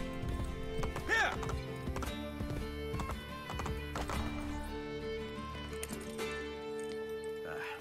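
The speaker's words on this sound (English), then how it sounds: "I can no longer keep up with the horses." Horses' hooves clip-clopping in the Assassin's Creed Brotherhood video game, rhythmic hoofbeats with a brief whinny amid game sound, under spoken dialogue.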